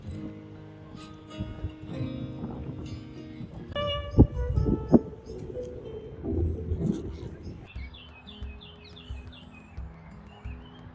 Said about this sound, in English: I think there's a bunch of parrots in these trees, a very green, vibrant bird.